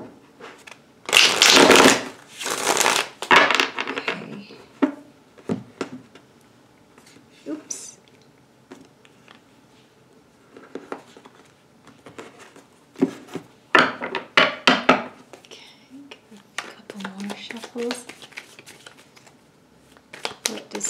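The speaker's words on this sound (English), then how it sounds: "One more good shuffle." Tarot cards are shuffled by hand in several rapid riffling bursts, close and crisp, with softer rubbing and tapping between them, and a person speaking at times.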